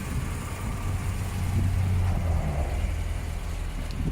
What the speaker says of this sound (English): The engine sounds and looks quite amazing.